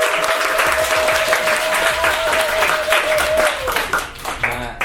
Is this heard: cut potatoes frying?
no